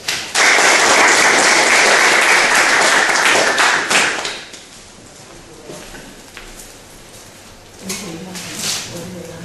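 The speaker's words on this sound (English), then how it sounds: "Now let's welcome our speaker Choony Kim with a big round of applause." An audience welcomes a speaker at a climate justice talk with a loud round of applause that lasts about four seconds and then subsides into quiet room noise with light movement.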